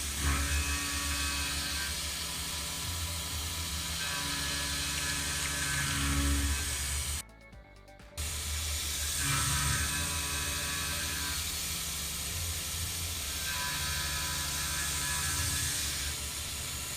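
A Tormach CNC mill cutting mounting slots in a part for a mini vise hums with a steady, layered mechanical whine, briefly cutting out to near silence before resuming at the same level.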